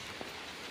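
Rain falls steadily in a rural village, a soft, even hiss of drops on surfaces heard alone, faint and continuous throughout.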